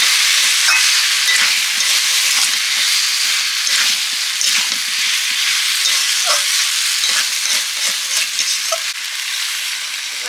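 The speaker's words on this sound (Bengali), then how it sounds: "এভাবে পরিমাণ মতো জল দিয়ে দেবো" A pumpkin and potato curry fries and sizzles loudly in a pan as water is poured in and the mixture is stirred, with a steady hiss and scattered scraping clicks throughout and no talking.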